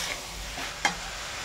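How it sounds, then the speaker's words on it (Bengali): Banana stem curry (thor) with prawns is stirred in a pan: a soft, steady sizzle with a single clear scrape of the spatula midway, fairly quiet and close, with no voices. "ভালো করে নেড়ে চেড়ে নিচ্ছি।"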